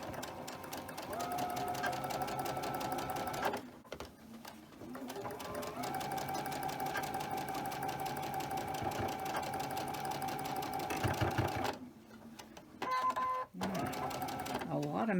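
Sewing machine stitches through thick quilt layers in long steady runs of rapid mechanical chatter, pausing briefly twice, close and fairly loud, with a person talking over it.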